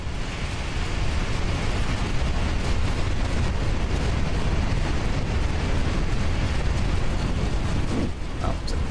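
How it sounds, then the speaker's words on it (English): Fireworks in a train management video game, a dense continuous crackling roar of overlapping bursts filling the whole stretch at steady high loudness. "Oh, there's like fireworks going on."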